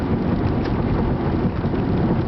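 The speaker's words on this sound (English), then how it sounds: "Oh, it's really raining now." Heavy rain pours down steadily, a dense broadband hiss and rumble filling the whole clip with no pauses, loud and close, with no talking.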